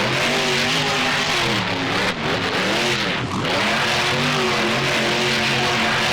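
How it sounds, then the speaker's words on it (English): Monster truck engine in the BeamNG video game revving hard and steadily while spinning donuts at a fairgrounds freestyle arena, a loud continuous motor roar with wavering pitch as the truck circles, briefly dipping and rising again. "Once again, more donuts here by Monster Mutt Dalmatian."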